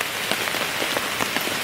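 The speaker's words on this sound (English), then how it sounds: "It is raining like all hell right now." Heavy rain pounds steadily on a tarp strung over a hammock camp in the woods, a dense, continuous patter with occasional sharper drop hits, close and loud throughout.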